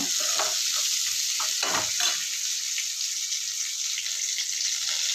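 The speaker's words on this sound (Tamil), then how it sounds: "வெங்காயம் நல்லா இந்த மாதிரி சின்ன வெங்காயம் நல்லா ப்ரௌன் கலர் ஆகிற அளவுக்கு வதக்கணுங்க" Shallots sautéing in a pan until brown hiss with a steady, bright sizzle, with a few stirring scrapes in the first couple of seconds before settling into an even fry.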